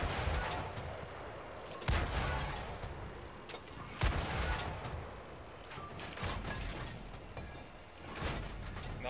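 Tank cannon shots in World of Tanks: a few heavy booming blasts, widely spaced, about two seconds apart, over a continuous rumbling engine and battle background.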